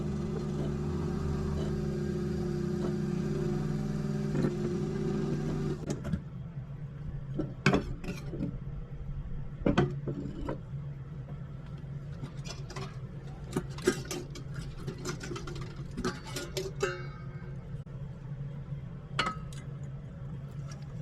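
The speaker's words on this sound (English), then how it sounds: "For the sifting itself, I'm using a vibrating flour sifter equipped with an 80 mesh screen." A vibrating flour sifter fitted with an 80 mesh screen shakes ground RAM BGA chip material, giving a steady low buzz with scattered sharp ticks and clinks from particles and metal, fairly close and with no talk.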